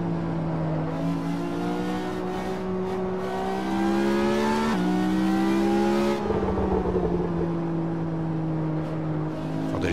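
A race car engine in the racing game Assetto Corsa hums steadily from an outside view, the revs climbing slowly and easing back with a brief shift midway, loud and continuous.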